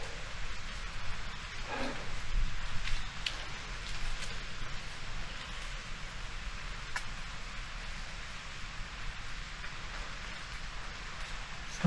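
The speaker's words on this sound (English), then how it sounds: "Sounds like a little rain." Rain falls through an ancient jungle in Vietnam, a dense, steady hiss of drops on leaves with a few louder patters near the start, no voices.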